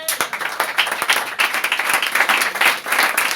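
A church congregation bursts into dense, sustained applause during a French-language sermon. The clapping is loud and continuous throughout, with a crowd of many hands filling the whole stretch.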